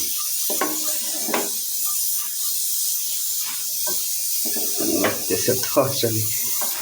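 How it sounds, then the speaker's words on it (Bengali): Rice and spices being stirred as they fry in a pan, a soft constant sizzling hiss under a person talking, with scraping stirring noises that grow more active toward the end. "চালটা ভাজবো আর কি মশলাটা দেওয়া হয়ে গিয়েছে এখন নেড়ে নেব সুন্দর"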